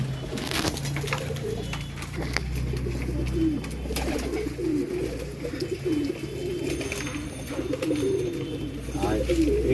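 Low throaty cooing from pigeons at a pigeon farm in Nabadwip, Giribaz among them, runs continuously and close by, with a few louder bursts and some background noise.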